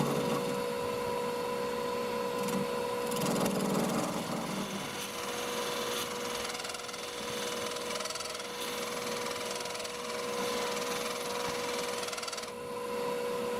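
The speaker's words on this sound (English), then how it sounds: "Teak is a really beautiful wood to machine with a lathe, especially if you've got sharp tools" A wood lathe spins while a tool cuts and shapes a teak handle. A continuous close rasping scrape rides over a steady motor hum with a few louder pressured cuts along the way.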